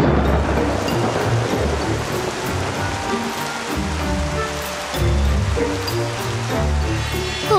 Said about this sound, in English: Oh no, water!